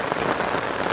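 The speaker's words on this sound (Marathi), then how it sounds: "तर आता पाऊस पण आला" Rain falling in the Konkan countryside, a dense, even patter of drops on surfaces, steady and close for a single brief second.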